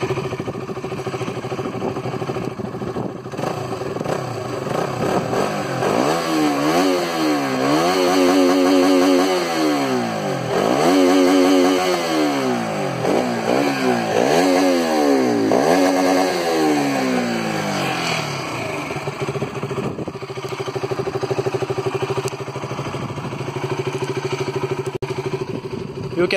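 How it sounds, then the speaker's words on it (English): A KTM RC200 sport motorcycle's exhaust idling, then revved repeatedly in sharp rising and falling bursts, loud and close, before settling back to idle. "many people were asking about the exhaust note of the RC200"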